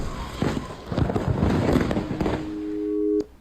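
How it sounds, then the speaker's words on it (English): Fireworks stored inside a burning house go off, a dense run of rapid crackling pops and bangs, loud and continuous, ending with a sharp report and a brief steady whistle-like tone. "there's a house that just blew up from fireworks in the house"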